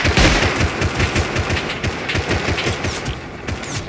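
Rapid automatic gunfire in the survival game Rust rattles in a fast continuous burst, loud and dense with booming low thumps, briefly thinning near the end.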